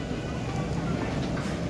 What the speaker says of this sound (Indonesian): jadi ini anak-anak lagi pada naik kereta